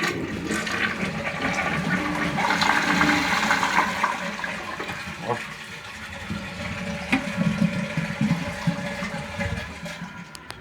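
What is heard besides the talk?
toilet cistern flushing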